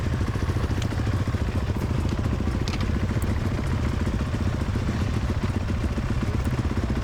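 Enduro motorcycle engines warm up before a race start, idling and rumbling steadily with a constant low throb and light crackling, loud and close, with no talking.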